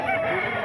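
Rooster belonging to a Pampanga poultry keeper, crowing in a sustained, strained call that fills the whole short moment, fairly close and loud.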